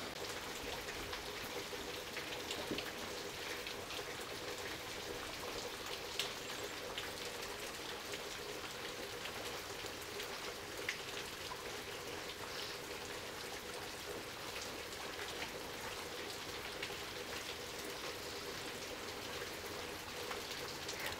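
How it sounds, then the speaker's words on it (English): Steady, heavy rain pours down without a break, a dense hiss of drops drumming on surfaces close by, with no voices. "The bad news is it's pouring down rain."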